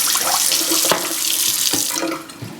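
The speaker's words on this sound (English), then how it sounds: "I'm just going to go grab some water." Water runs steadily from a kitchen tap into a quarter-cup measure as keto pudding is made, a continuous close hiss with a couple of brief splashy shifts, tapering slightly at the end; no one speaks.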